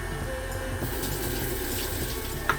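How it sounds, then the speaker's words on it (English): Tap water runs steadily into a sink as hands are washed between steps of mixing white chocolate chip chocolate cookie dough, a continuous close splashing flow with a small clink near the end. "Wash my hands."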